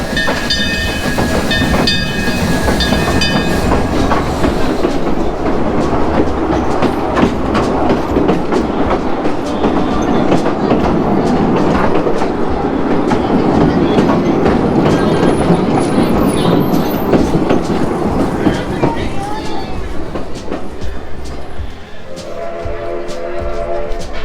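A Christmas train at Silver Dollar City rolls past close by, with loud continuous rumbling, clattering wheels and hissing that lasts throughout, while voices speak briefly over it.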